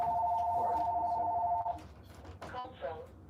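A telephone rings with a steady two-tone electronic trill for over a second, then stops, followed by people talking and brief handling noises.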